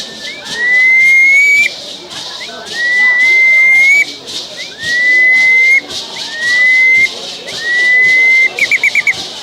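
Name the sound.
whistled imitation of smooth-billed ani call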